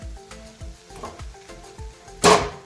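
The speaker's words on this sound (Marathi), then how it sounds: "अजून दोन मिनिटे आपण हे छान भाजून घेऊयात" Ghee residue mixture for barfi roasting in a pan, with soft sizzling and a regular rhythm of spatula scrapes and stirs, plus one louder clatter near the end.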